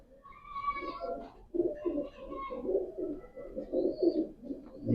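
Pigeons in a breeding setup, a pang blood line with a light Pakistani cross, coo steadily in low throaty rolls, close and fairly loud, with several overlapping calls and no talking.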